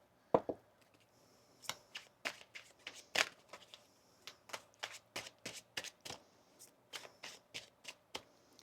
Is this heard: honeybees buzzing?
no